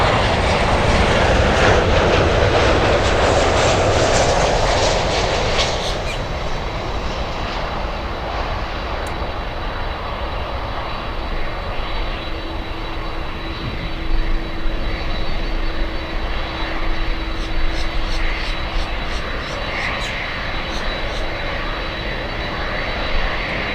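An American Airlines Boeing 737 jet airliner lands at Miami International Airport, its engine roar loud and close at first, then fading into a steady, lower rumble as it passes.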